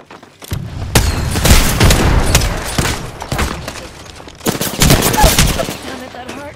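Gunfire and explosions from a frag grenade in the video game Apex Legends. The shots come in loud, dense bursts with heavy booming hits, and the barrage runs almost without break, swelling again near the end.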